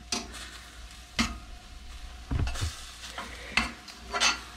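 Wild mushrooms sizzle quietly in a pan while being stirred, with a soft frying hiss broken by several distinct scraping stirs and clinks at irregular intervals.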